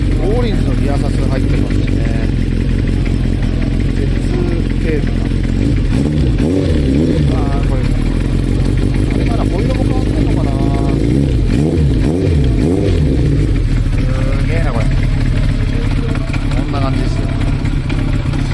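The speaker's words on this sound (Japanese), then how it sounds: "ちょっとエンジンかけてみましょう。" A Kawasaki Zephyr 750 motorcycle engine with an aftermarket exhaust rumbles loudly at idle, then revs up and down several times in throaty surges, with faint voices mixed in.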